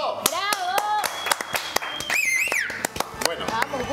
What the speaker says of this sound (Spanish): un aplauso para Alberto